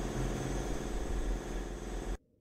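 Two generator engines hum steadily in the game Stationeers, a loud, continuous droning idle with a low rhythmic throb that cuts off abruptly near the end, no talking over it.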